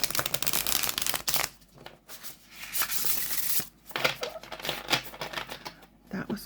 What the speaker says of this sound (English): let's try a shuffle and see how we do.